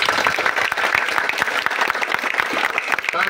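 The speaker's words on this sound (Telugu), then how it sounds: "ఇక్కడ మనం అందరం ఇక్కడ చప్పట్లు కొడుతున్నాం" A crowd claps steadily at an Ambedkar Jayanti celebration in a village neighbourhood. The dense, continuous applause sounds close and loud for the whole stretch.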